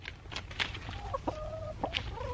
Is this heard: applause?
no